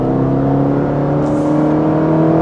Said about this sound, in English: You can gear down the CVT and put it into what it basically simulates as first gear